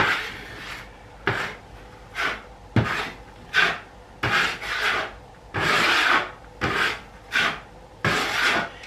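A putty knife drags a light top coat of joint compound across a wall patch in a dozen or so short, rhythmic scraping strokes, close and clear with brief pauses between passes.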